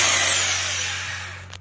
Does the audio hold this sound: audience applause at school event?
no